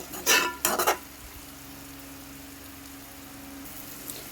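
Chicken liver fry turned in a pan with a spoon, two quick bursts of scraping and clinking near the start, then a faint low hum with no talk.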